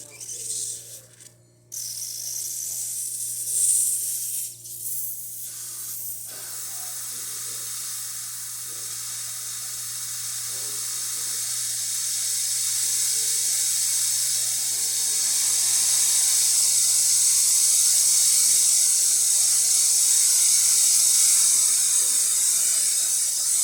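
A Breville Barista espresso machine's steam wand hisses steadily, starting with a few mechanical clicks and sputters before building into a loud, continuous bright hiss that swells and holds close by.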